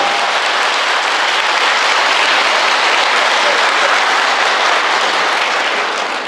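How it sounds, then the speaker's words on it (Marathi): A large audience claps loudly and continuously at a motivational talk, a dense, steady roar of applause that holds at full strength from start to finish with no voices over it. "जोरात टाळ्या वाजवायच्या, जोरात जोरात जोरात जोरात जोरात जोरात टाळ्या वाजल्या"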